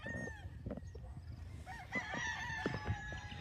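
Roosters on a gamefowl farm in Lipa City, Batangas crow at a moderate distance with overlapping calls, and chickens cluck among them, no one talking.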